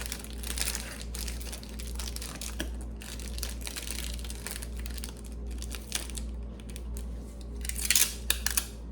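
Tape and wrapping material rustle and crinkle around a gift basket, with repeated tearing and scissor-like snips close by, fairly quiet and continuous with louder crinkling bursts near the end.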